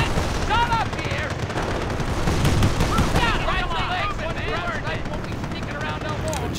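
Rapid crackling gunfire and explosions from the World War II strategy game Company of Heroes, in a battle with a 105mm howitzer in play, form a dense continuous barrage with chirping whistles and shouted voices over it.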